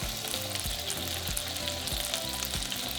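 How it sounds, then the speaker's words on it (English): Burger buns toasting in a medium frying pan with melted butter give a steady, close sizzle and crackle that runs unbroken throughout, with no voices. "just place my buns and let that toast a little bit"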